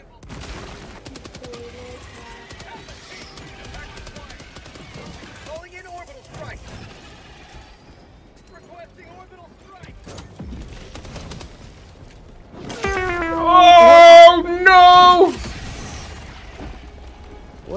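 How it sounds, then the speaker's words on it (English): Gunfire in the video game Helldivers 2, sparse mechanical clicks and pops early on, then a loud dense burst of rapid firing with ringing tones near the end. "What are you shooting at?"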